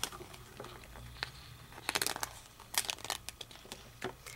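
A peel-off sticker is pulled from its sheet with a few close, crisp crinkling and tearing crackles in short bursts over a quiet room.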